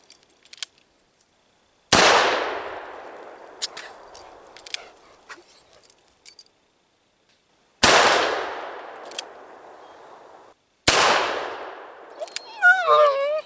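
Three loud, close .357 Magnum pistol shots aimed at a metal target ring out with long decaying tails, spaced several seconds apart. Small clicks sit in the quiet gaps, and a whistling, warbling sound follows the last shot.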